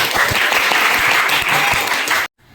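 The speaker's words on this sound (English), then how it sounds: "Please give applause for Cinta." A short burst of applause from a group, steady clapping that stops abruptly.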